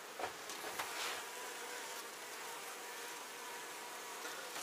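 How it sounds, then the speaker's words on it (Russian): Honeybees buzz around an open beehive during an inspection of frames holding rapeseed honey, a faint, steady swarm drone filling the whole stretch with no talking. "Ну, пчелки работают"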